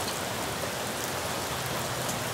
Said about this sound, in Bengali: অল্প স্বল্প বৃষ্টি হচ্ছে, খুব বেশি না